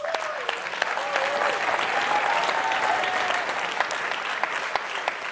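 Loud, steady applause with cheering from a large audience at a European socialist party election congress, sustained throughout with scattered whistles and shouts rising above the clapping.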